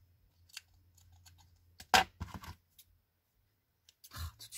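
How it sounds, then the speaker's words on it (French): Sewing scissors snip through decorative material for a Christmas tree, a few crisp cuts clustered near the middle and end, close and fairly quiet against a faint low hum. "quand on prend les ciseaux couture, comment ça va mieux tout de suite"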